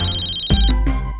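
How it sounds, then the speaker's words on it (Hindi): A phone rings with an electronic ringtone, a short, loud, close melodic tone burst that plays clearly on its own. "तुम्हारा फोन बज रहा है।"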